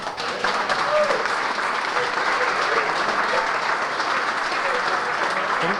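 An audience at an alumni association induction ceremony in Lorain, Ohio applauds, a steady, full wash of many hands clapping that continues evenly for several seconds, with faint voices underneath.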